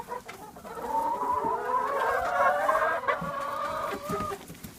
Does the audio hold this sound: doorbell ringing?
no